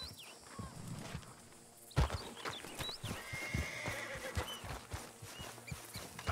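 A horse whinnies and snorts nearby in the video game Red Dead Redemption 2 while hooves clop in an uneven rhythm on hard ground, with brief bursts of louder movement.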